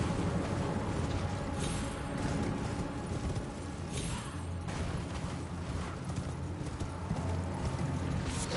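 Horse hooves pound in a steady gallop in the video game Elden Ring, a continuous close clip-clop rhythm under dense game ambience and rumbling background noise, with no talk.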